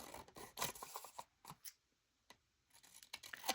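Scissors snipping through paper scraps while trimming tags for a junk journal, a quick run of close, crisp cuts followed by a pause and a few more snips near the end.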